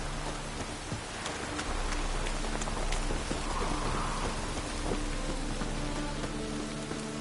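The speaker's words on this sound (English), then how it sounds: "Looks like rain." Steady rain in a video game (The Witcher) patters and hisses continuously, with a low rumble underneath and occasional droplet splashes, no voices.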